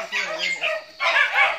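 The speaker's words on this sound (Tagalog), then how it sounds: "Ang ingi talaga yung mga aso, Kuya Mahalin." Dogs bark and yip in short, loud bursts close by in a Filipino household, a few sharp barks coming in two quick clusters with brief gaps between.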